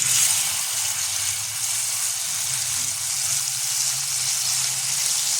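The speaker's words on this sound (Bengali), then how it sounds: "এবার আমি এটা দিয়ে দেবো, পেস্টটা দিয়ে দেবো এর মধ্যে" Spice paste sizzles in hot ghee while a rezala curry is cooked, making a steady, close frying hiss that holds through the whole stretch without talk.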